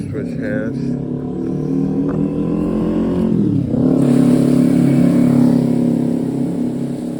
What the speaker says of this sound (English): That was actually a motorcycle